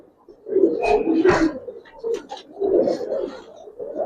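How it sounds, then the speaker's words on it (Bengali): Pairs of Giribaz coloring pigeons in a loft coo in low, throaty bursts, close and clear, with two main swells of cooing separated by brief pauses. "দেখছেন কবুতর"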